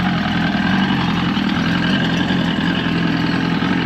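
A 115hp Evinrude outboard motor on a 1973-74 Glastron boat idles steadily, a continuous low, even engine drone with no pauses throughout.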